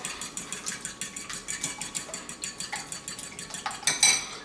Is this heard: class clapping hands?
no